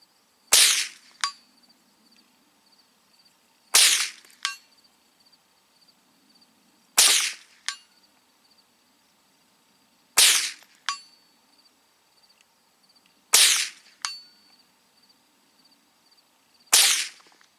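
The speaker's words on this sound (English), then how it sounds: "sorry, I'm hitting the tripod" A Savage 64 Takedown rifle knocks against a tripod outdoors in the desert, giving six sharp metallic clacks spaced about three seconds apart, each followed by a quieter ringing tap.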